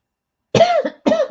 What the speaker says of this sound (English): I don't know what this cough is.